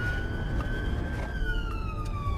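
An ambulance siren wails steadily on a road in Scotland, a sustained rising-and-falling tone over the rumble of the moving vehicle, loud and close throughout.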